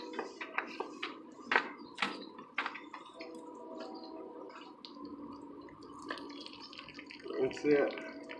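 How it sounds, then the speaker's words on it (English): A water-fed brush rinses a lower window with a hybrid boar's hair brush, giving soft, faint splashes and drips in irregular bursts, with quiet talking in the background. "And then we're just gonna rinse it off."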